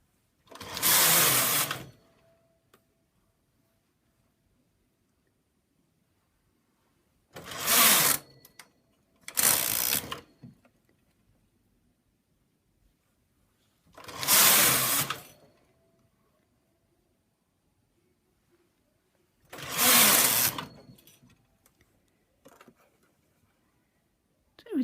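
Sewing machine stitching around the edges of a motif to wrap them, running in five separate bursts of one to two seconds with quiet gaps between, close and fairly loud.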